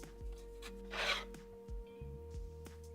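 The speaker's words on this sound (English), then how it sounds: "I just needed to unscrew those 2 little screws there holding it on at the front" Faint rubbing, rasping scrapes come from screws being turned out of a wooden vise's front jaw in a quiet workshop, a few short twisting strokes with a soft hum behind.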